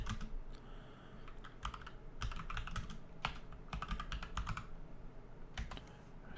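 Fingers typing a directory name on a computer keyboard during terminal setup, with bursts of quick key clicks, short pauses between runs of keystrokes, close and fairly quiet.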